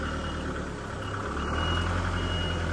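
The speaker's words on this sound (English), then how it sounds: "Hopefully that beeping isn't too annoying." Steady, repeated reversing beeps ring out from a backhoe backing up on a Missouri property, sounding loud and close over a continuous low diesel engine rumble.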